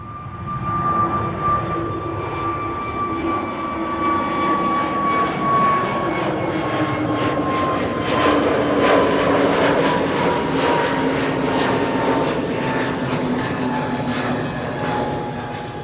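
An Aer Lingus airliner in special rugby livery departs Schiphol's runway 24, its jet engines roaring as a steady, loud rumble with a slowly falling whine as it accelerates past and climbs away.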